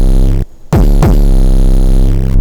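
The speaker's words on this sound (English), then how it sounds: "There's the 808." An 808 bass in a necrotrap beat pulses loud and deep, with a brief dropout, then a hard re-entry and a gliding pitch slide on a second hit before it holds and throbs steadily.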